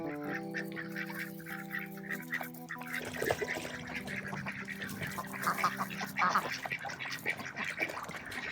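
Domestic ducks quacking and honking, several birds calling in overlapping bursts, fairly close and moderately loud, with no talk over them.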